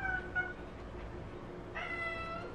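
A cat meows repeatedly close by, drawn-out tonal cries with a louder, higher call near the end over a low room hum.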